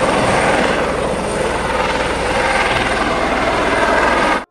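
A toy fire helicopter's rotor chops loud and steady up close with a continuous engine whir, ending abruptly.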